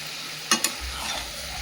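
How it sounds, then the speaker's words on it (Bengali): Chicken with previously fried potatoes sautéing in a pan, two sharp stirring clinks followed by a low steady sizzle, close and fairly quiet. "এবার চিকেনটাকে ভালো করে কষিয়ে নেব। ভেজে রাখা আলুগুলো দিয়ে দেবো"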